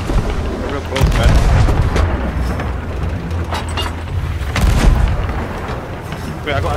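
Ship cannons in Sea of Thieves boom loudly amid a naval fight, with heavy blasts near the one- and five-second marks over a constant rumbling bed, while people talk excitedly throughout.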